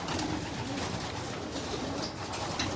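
Racing pigeons being readied for race season, cooing steadily in a loft with a dense, continuous murmur of many birds close by and no one talking.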